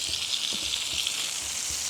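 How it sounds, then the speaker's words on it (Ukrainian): Food frying in a hot pan gives a steady, close hiss of sizzling oil with faint soft pops and occasional stirring knocks. "Ох, як шкварчить, гарно, бачите?"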